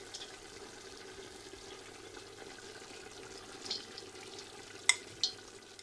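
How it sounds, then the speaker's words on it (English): Carrots land in a pot of lamb pilaf rice that keeps a soft, steady sizzle, with a few light clinks and taps near the end as they are placed around the top, no talking. "Add the carrots around."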